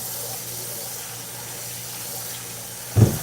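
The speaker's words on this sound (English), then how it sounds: "we're just going to fill this up with water." Water runs steadily from a tap into a container during leather cuff making, a constant hiss ending in a short louder gush and splash.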